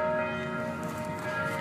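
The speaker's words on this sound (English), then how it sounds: "Do you hear those wedding bells?" Bells ring with a sustained, shimmering metallic tone, moderately distant and steady, with no voices.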